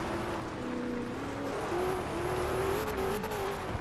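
A car engine races across dirt in the video game Forza Horizon 2, revving steadily with rising and falling pitch under a continuous loud roar of tyres and gravel, with no talking.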